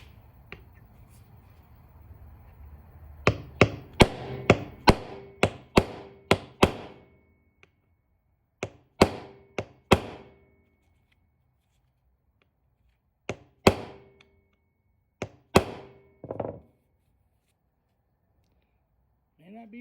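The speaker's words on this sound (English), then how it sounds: "I'm going to grab a hammer and punch, see if I can drive that through." Sharp metallic hammer strikes on a punch driving out a rivet on a Yamaha DT 100 motorcycle, several rapid bursts of close blows separated by short pauses, in a quiet workshop.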